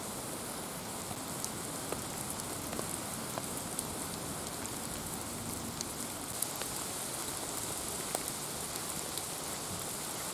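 Steady rain falls in Miyazaki, Japan, a dense even hiss of drops on surfaces with occasional louder splashes, continuous and close with no voices.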